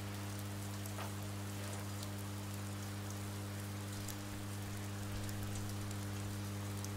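Steady rainstorm in the video game Oxenfree, a continuous even hiss of falling rain over a low constant hum, with no distinct drops or thunder.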